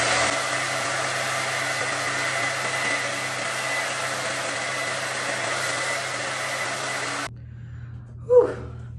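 Hair dryer blows a steady, loud whoosh for about seven seconds while drying hair after a toner mask, then cuts off, leaving a quiet room and a short exhale.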